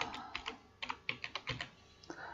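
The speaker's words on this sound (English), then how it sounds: "So I'm just typing" Typing on a computer keyboard while entering text into an Excel formula bar: a quick, uneven run of crisp, close key clicks, with no voice over it.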